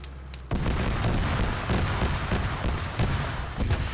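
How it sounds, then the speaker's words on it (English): A rocket explodes in ARMA 3 with a sudden loud boom, followed by a sustained rumbling, crackling blast roar that fills the remaining seconds. "Oh god, another rocket almost got us."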